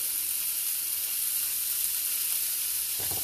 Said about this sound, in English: I'm going to get the sear going with it